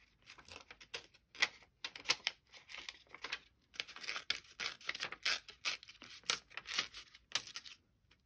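Paper torn by hand into strips for a collage, repeated bursts of crisp ripping close to the microphone, each a second or so long, separated by short quiet gaps.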